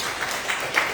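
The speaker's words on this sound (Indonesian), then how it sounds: "mari berikan tepuk tangan buat semua fathers" Congregation at a Sunday church service applauding the fathers on Father's Day, with dense, continuous clapping from a crowd and a few louder claps standing out, no talk.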